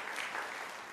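A church congregation claps briefly in welcome, a soft, even wash of many hands heard at a distance, filling the whole short moment without a clear start or stop.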